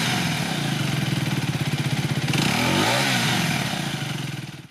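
125cc sport motorcycle engine running steadily up close, its low exhaust note pulsing evenly with a brief rev swell midway before trailing off at the end.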